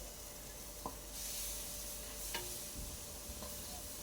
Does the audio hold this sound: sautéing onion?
yes